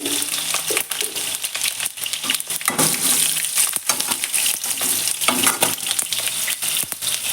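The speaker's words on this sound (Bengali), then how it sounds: "তেল গরম হয়ে গেছে তো প্রথমে তেজপাতা দুটো ছেড়ে দিলাম আর এখন পাঁচফোড়ন দিচ্ছি" Two bay leaves and panch phoron spices hitting hot oil in a kadai, a dense continuous sizzle with crackling pops and sharp spatters, close and loud with no talking.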